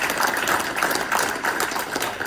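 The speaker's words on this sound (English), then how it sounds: "give a round of applause for the national anthem" Audience applause follows a national anthem performance at a military base ceremony, a brief, steady patter of many hands clapping at close range with no voices over it.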